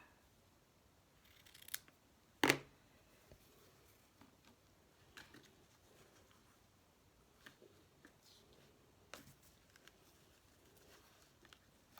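Scissors snip off an overlong piece of craft material, one sharp close cut standing out among faint scattered clicks and handling taps in a quiet room.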